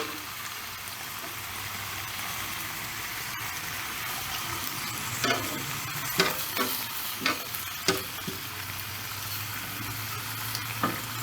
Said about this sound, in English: I'm gonna cook these veggies down a little bit, get them nice and translucent